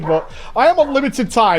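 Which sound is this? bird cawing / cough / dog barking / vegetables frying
dog barking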